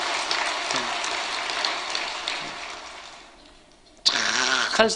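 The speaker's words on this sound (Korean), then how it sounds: "축복하는 박수 한번 해주실까요?" A church congregation applauding to bless newcomers, a dense wash of many hands clapping that fades away, followed by a sudden burst of close voice and room sound.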